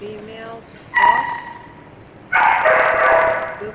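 A female dog gives a thin, high whimper, then a sharp yip and a longer, louder run of whining yips, heard close with little else around.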